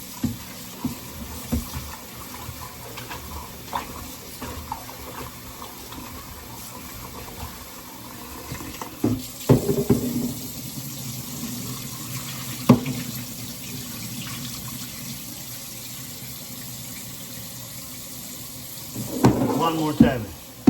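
Cold water runs from a kitchen tap as raw chicken is rinsed in the sink, a steady splashing stream broken by clunks and handling noises, with louder bursts of sloshing near the end.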